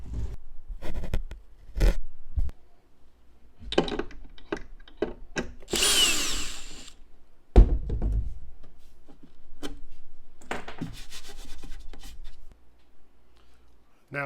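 A power drill whirs briefly in one burst, pre-drilling a hole in a wall, surrounded by scattered clicks, taps and handling noises of tools being used up close.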